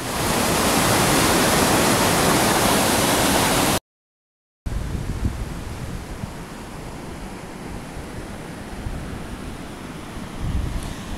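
Loud continuous rushing of spring floodwater through a swollen ravine, broken by a brief silence, then a softer steady rush of water continuing.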